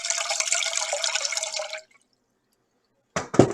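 Filtered water runs steadily into a cooking pot for noodles, a bright continuous pour that stops abruptly, followed by a couple of brief knocks after a pause.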